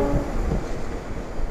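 The locomotive of the Tegal Bahari train being shunted at a station: a low, rumbling engine drone close by, mixed with wind buffeting the microphone over a brief moment.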